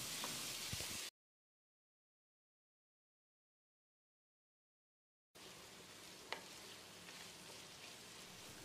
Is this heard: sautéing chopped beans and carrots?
yes